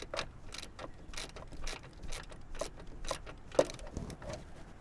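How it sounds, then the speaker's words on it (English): Ratchet wrench tightening an 11 mm nut on a catch can mounted in a Dodge Charger or Challenger Hellcat/Scatpack engine bay, giving repeated short clicking bursts in an uneven rhythm, close and fairly quiet with no talking. "And we're going to tighten this 11 millimeter."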